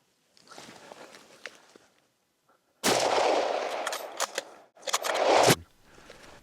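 A loud, close rifle report from a moose hunt in the North Maine Woods, a broad sharp blast with a rough, rumbling tail, preceded by quieter rustling outdoor movement and followed by a second burst of noise.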